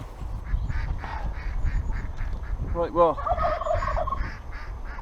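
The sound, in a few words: turkeys gobbling on a farm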